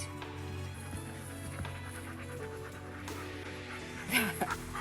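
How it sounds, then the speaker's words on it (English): Dogs pant close by in a summer flower garden, a steady breathy rhythm running throughout, with a few louder yips or whimpers near the end. "if you hear panting, it's because I'm surrounded by dogs"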